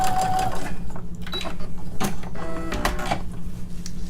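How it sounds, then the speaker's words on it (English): A sewing machine runs steadily while back stitching along a pouch strap, its motor humming and needle chattering in a close, continuous mechanical rhythm with brief changes in speed. "Do some more back stitching at the other side of the strap and all the way to the end and back stitch."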